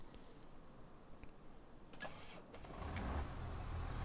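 A tractor engine in the video game Farming Simulator 25 idles faintly, then swells into a louder rumbling drone near the end, heard alone with a brief high squeal along the way.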